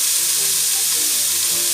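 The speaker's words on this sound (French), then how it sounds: "pendant que mes lardons vont un petit peu réduire" Bacon lardons frying in a pan give a steady, loud, close sizzle with continuous crackling and occasional stirring, and no voices.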